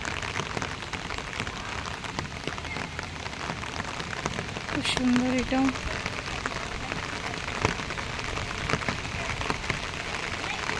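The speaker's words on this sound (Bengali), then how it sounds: "বৃষ্টিটা খুব জোরে পড়ছে" Heavy rain pours steadily onto an open playground meant for small children, a dense continuous hiss of drops striking the ground throughout, with a brief voice speaking over it midway.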